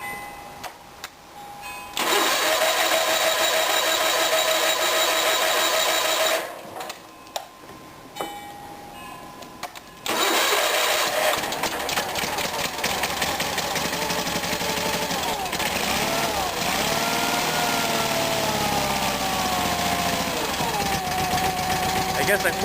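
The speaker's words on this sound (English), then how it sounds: "And the starter motor, amazingly, still works." The starter motor of a Case 446 tractor, which has solenoid problems, cranks the engine in long, loud, steady whirring runs broken by a brief pause, heard close up with no voices.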